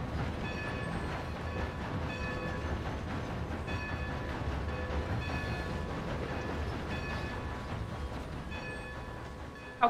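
A train rolling along in Red Dead Redemption 2, a steady dense rumble with rhythmic clatter and faint tonal whine throughout, heard as from inside or beside the moving train, ending with a brief knock.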